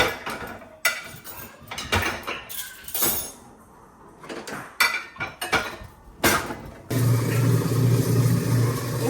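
Dishes and cutlery clatter and clink in bursts as plates are loaded into dishwasher racks, ending with the dishwasher's steady mechanical hum.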